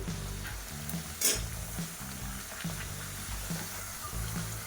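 Maddur vada deep frying in a large pan of hot oil, a dense bubbling sizzle with rhythmic pulsing bursts roughly every second and one brighter splash early on, close and unaccompanied by talk.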